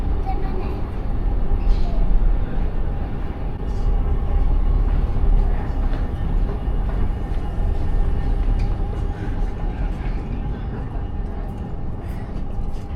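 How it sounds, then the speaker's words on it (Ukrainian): A train heading to Jungfraujoch in the Swiss Alps gives a steady, dense rumble of wheels and carriage noise that runs unbroken throughout. "Зараз ми пересідаємо на потяг до Юнгфрау Йох з точки."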